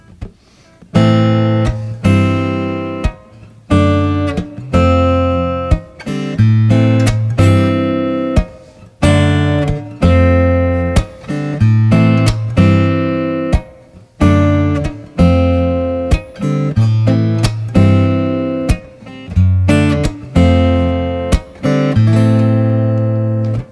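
A solo guitar strums a repeating slash-chord progression, each chord ringing then quickly changing in a steady, unhurried rhythm.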